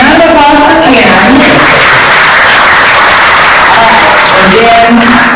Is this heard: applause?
yes